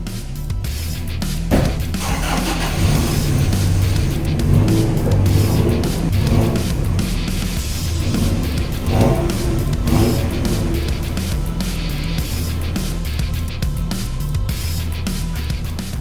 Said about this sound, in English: That is going to be the last time that this truck moves under the power of a 2RZ.